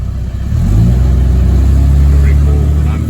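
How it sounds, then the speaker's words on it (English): A Ford LTD with a 5-litre V8 idles nearby, producing a loud, steady low rumble that swells slightly and then holds even throughout. "V8, 5-litre V8."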